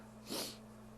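A single soft, breathy sneeze, brief and fairly quiet, rising and fading within a moment against a faint hum.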